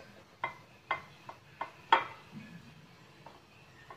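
Fish being stirred in a pan with virgin oil, a series of faint, sparse scraping clinks of a utensil against the pan, spaced about half a second apart, quiet and alone.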